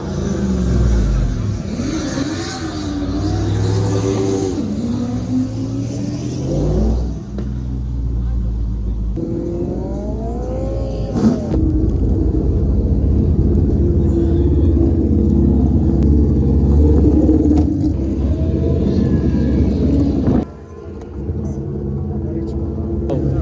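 Motorcycles sprinting down the strip at a drag racing festival, a continuous loud engine roar with rising and falling revving sweeps and rumbling, close by, with someone talking over it throughout.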